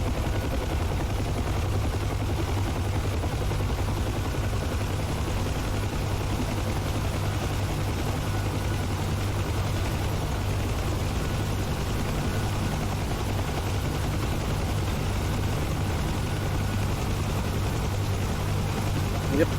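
A Huey helicopter in the DCS flight simulator holds a hover, its rotor and turbine making a loud, constant, unbroken drone throughout.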